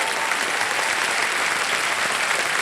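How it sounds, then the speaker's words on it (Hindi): A studio audience on a televised quiz show claps in a dense, sustained burst of applause that fills the room evenly from start to finish. "तालियां बज जाएं इनके लिए।"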